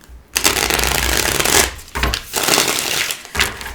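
Tarot cards shuffled by hand in a steady, close riffling rush, broken by brief pauses between passes.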